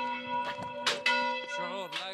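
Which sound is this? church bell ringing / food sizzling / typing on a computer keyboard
church bell ringing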